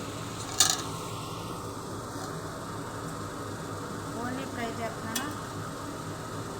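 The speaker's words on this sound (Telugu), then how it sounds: "ఇప్పుడు దీన్ని ఫ్రై చేస్తున్నాను." Marinated food fries in a pan, a soft, continuous sizzle sitting low under a speaking voice, with a couple of brief utensil clinks against the pan.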